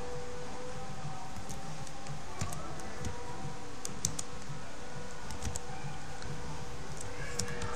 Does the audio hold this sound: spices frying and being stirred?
no